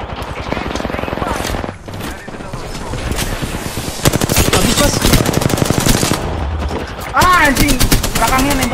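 Rapid automatic gunfire from the Apex Legends video game rattles in dense, loud bursts with brief pauses between them, over excited player voices and other game sounds.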